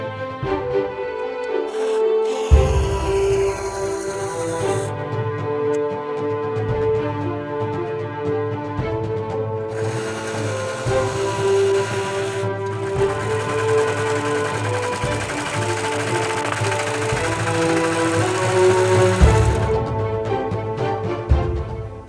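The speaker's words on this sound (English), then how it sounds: "I'm going to run through the serger and we'll get them serged up." A serger sewing machine runs seams on breeches fabric, a sustained mechanical whir in long bursts with short pauses and speed changes, close and fairly loud, with no talking.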